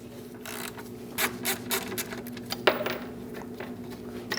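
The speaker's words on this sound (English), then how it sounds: "Remove the plastic post. Using a E5 socket," A socket wrench with an E5 socket ratchets and clicks in quick irregular bursts while removing a plastic post from the engine of a Ram 1500 5.7L V8, close and fairly quiet against a steady low hum.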